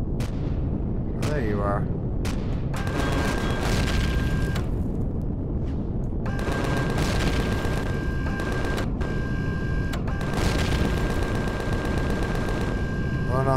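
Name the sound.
weapon fire and explosions in video game Empyrion Galactic Survival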